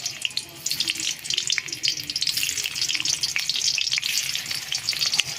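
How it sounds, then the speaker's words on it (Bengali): Chopped onions sizzle in hot oil in a wok, a steady crackling fry with bright spitting bursts that holds close and loud throughout, with no one talking. "তেল দেওয়া হয়ে গেছে, এবার পেঁয়াজ কুচিগুলো দিয়ে দেওয়া হবে।"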